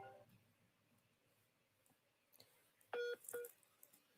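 A telephone call comes through as a brief burst of electronic dialing tones, two short bright beeps close together after a few seconds of quiet background with no talking.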